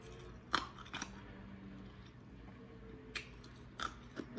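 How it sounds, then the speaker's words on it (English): Someone chews ice during a lunch mukbang, producing several sharp, close crunches spaced irregularly over quiet background, with a couple of louder bites near the start and end. "A little bit more ice crunching for the road."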